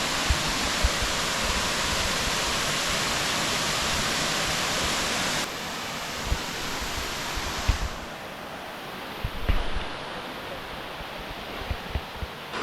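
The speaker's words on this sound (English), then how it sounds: "Guys, this is the 7 waterfalls." The Seven Wells waterfalls in Langkawi roar with a loud, steady rushing of falling water, constant and unbroken, with the level dropping partway through as the position shifts.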